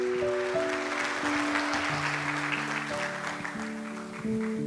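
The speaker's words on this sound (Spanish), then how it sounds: "Denle un aplauso al Señor." A church congregation at a Spanish-language worship service claps together, a steady wash of applause over sustained keyboard chords throughout.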